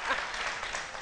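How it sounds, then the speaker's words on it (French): An audience applauding a performer, a brief burst of dense clapping heard across the room, with a voice faintly underneath. "Alors, Cassio Ignace, qu'on applaudit pour l'encourager."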